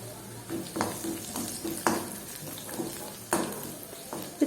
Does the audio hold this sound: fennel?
yes